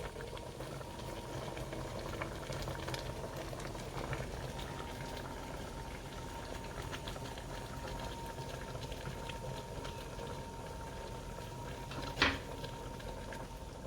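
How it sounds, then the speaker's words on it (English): A pot of sugary candied yam mixture with nutmeg and ground coriander bubbles at a steady rolling boil, a soft continuous gurgle with one brief clink near the end, no voices. "All right, it's up to a good boil."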